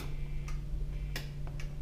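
A guitar wah-wah pedal is switched on with a few small, crisp clicks over a quiet electrical hum.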